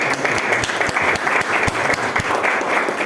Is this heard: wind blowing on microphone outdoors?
no